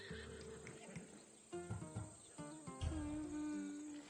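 A horse in Assassin's Creed Odyssey gives a drawn-out, rising whinny partway through, set against quiet outdoor ambience with faint insect chirping.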